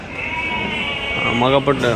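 Nellore Judipi rams in a large flock bleat near the end, a couple of short nasal calls rising over steady background noise and someone talking.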